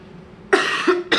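Two quick, rough coughs close up, with a third starting right at the end, over a quiet room.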